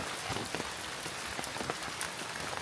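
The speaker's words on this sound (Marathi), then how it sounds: "मे महिन्यात एवढं पाऊस पडता" Heavy May rain pours down steadily onto surfaces, a dense hiss with scattered sharper drips and patters close by, and no voices.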